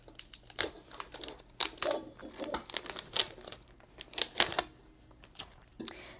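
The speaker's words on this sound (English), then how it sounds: "And then we'll lift up my transfer tape." Transfer tape is lifted away from a cut vinyl heart shape in a papercraft project, producing close, crackly bursts of peeling and crinkling in uneven clusters, with no one speaking.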